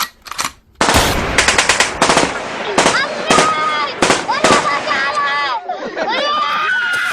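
Rapid bursts of machine-gun fire crackle loudly after a shouted command in a comedic Bangla war skit, with repeated sharp volleys and echoing shots, and voices clamour briefly at the start.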